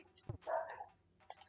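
A dog barks during a late-night Animal Crossing stream, one short bark followed by a whimpering yelp, close by with faint game sounds around it.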